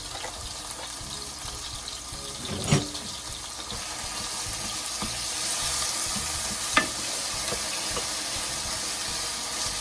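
Ground meat and wild brown rice frying in a pan for dirty rice, a steady close sizzle with a couple of sharp scrape or clink accents from stirring, no talking.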